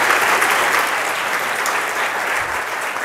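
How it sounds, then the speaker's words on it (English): An audience at a programming conference talk breaks into steady, dense applause that stays loud and full throughout without a break. "A round of applause."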